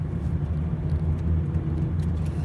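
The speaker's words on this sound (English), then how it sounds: "Gosh, my car even sounds rough on the road." A car drives over a cold road with a steady, close, low rumbling engine and road roar and a faint, rough undertone, with no voices.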